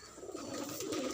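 Soft low cooing of a pigeon, a quiet steady murmur throughout with no talking.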